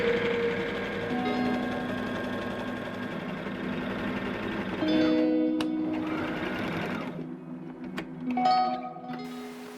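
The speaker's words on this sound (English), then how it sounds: "now just got to sew this up." A sewing machine stitching the seams of a Bronze Age style blouse runs in a steady, close whirring hum, pauses briefly, then starts up again in a shorter burst.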